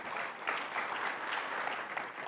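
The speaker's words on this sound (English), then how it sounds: "Big round of applause for our panelists," Brief burst of steady audience clapping for panelists at a plenary breakfast on Latino economic growth, dense and even throughout with no talk over it.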